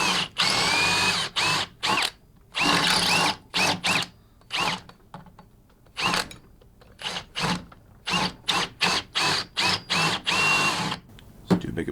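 Drill bit boring into a Hummer H3 part, a power drill running in repeated bursts of a few seconds each, close and loud, with short pauses between the bursts.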